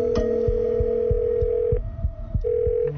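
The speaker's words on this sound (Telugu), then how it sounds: "ఆడికే ఫోన్ చేశాను." A steady electronic telephone ringing tone plays during a phone call in a Telugu film scene, with one long tone, a pause, then another tone beginning, over a low rhythmic thump.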